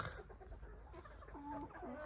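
Several ornamental chickens cluck and murmur softly nearby in a separate pen on a cold day, overlapping low calls rising and falling against faint outdoor background noise.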